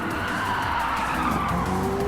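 A truck drifting in a racing video game, with a continuous loud tyre skid and squeal over a steady engine roar throughout, no talking.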